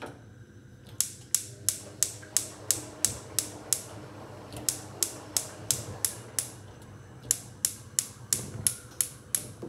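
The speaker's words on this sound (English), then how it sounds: "Push the knob, you'll hear an ignition sound" The igniter on an Algor gas stove clicks in a rapid, steady series of sharp ticks, roughly three per second in two bursts, over a faint background hum.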